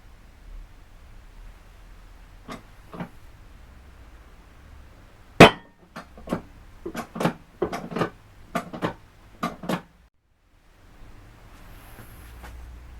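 Bushing pressed into a 5HP18 automatic transmission pump using an old alternator bearing as a driver: a run of about a dozen sharp metallic taps and knocks, irregular then quickening, close and fairly loud, with no talking.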